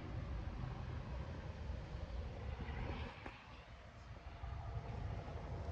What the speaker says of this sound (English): So we got a helicopter going.